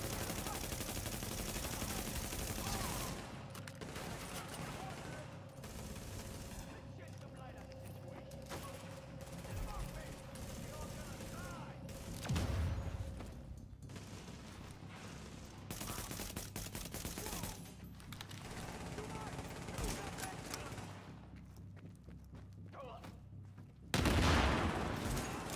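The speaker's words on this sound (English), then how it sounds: "Shotgun." Shotgun blasts in a video game shootout boom at intervals over a busy, noisy game background, with a couple of louder heavy shots standing out near and sharp.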